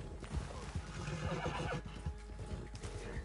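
A horse in Red Dead Online lets out a loud, drawn-out neigh, with clip-clopping hooves and game ambience in the background and no talk.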